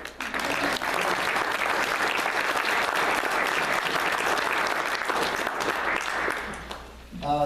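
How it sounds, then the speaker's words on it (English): Sustained audience applause at the Project Seneca annual meeting: a dense, steady wash of many hands clapping that holds loud for several seconds, then thins and fades near the end. "I think we need a round of applause for these people"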